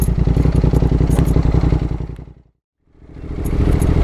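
A road motorcycle labours up a washed-out, rutted fire trail at Mt Hay in first gear. The engine is loud, close and pulsing steadily, with rattling clatter over it. It fades to near silence for a moment, then returns at full strength.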